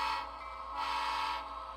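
An HO scale model train running on a small switching layout gives a faint, steady tonal hum that swells and fades twice.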